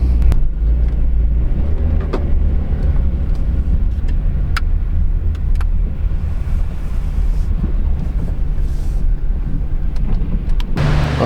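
A GMC Acadia SUV with 111,000 miles pulls into a garage, a loud close engine rumble with wind buffeting the microphone and a few sharp clicks and knocks, ending with a louder low thump.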